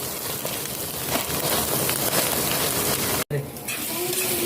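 A sardine omelette (tortang sardinas) frying in a pan, a dense steady sizzle and crackle of hot oil that runs throughout with only a momentary break.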